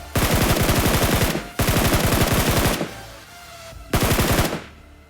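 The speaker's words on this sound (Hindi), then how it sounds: "तभी चर्च की तरफ से फायरिंग आ रही थी" Automatic gunfire in the BGMI mobile game comes from a church in three rapid, loud bursts, each over a second long, with short pauses between them and no voices.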